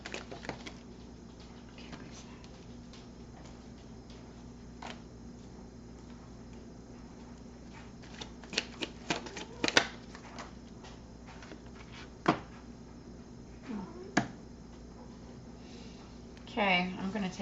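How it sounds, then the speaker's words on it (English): Tarot cards shuffled by hand in a quiet room, giving soft riffling patter with scattered crisp card snaps and a louder flurry near the end, while a person talks throughout. "Let's shuffle this out."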